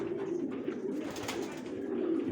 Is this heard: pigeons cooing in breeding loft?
yes